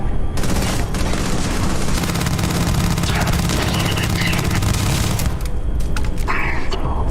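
Dense, continuous bursts of gunfire and booming explosions in the video game Starfield, loud and unbroken, with a brief lull near the end.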